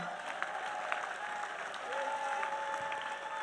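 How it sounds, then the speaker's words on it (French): Church congregation gives a clap offering, filling the space with dense, sustained applause from a large crowd, steady and fairly loud with a faint voice mixed in. "Offrande d'acclamation. Clap offering."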